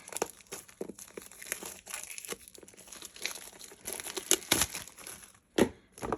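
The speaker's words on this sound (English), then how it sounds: "So let me go ahead and cut these open." A box of bead storage packaging is cut open close by, with crinkling plastic, tearing and sharp rustling bursts that come and go, and a few louder crackles near the end.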